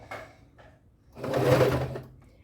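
Sewing machine stitching a clear plastic pencil case with a 4.0 stitch length, a steady whirring burst building midway after a few softer start-up taps, close and alone with no talk.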